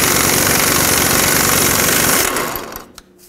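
A tool spins a 24 mm socket on a track bar nut at the front differential of a 2008-2010 Ford F-250: a loud, close, continuous rattling mechanical hammering that winds down and stops near the end.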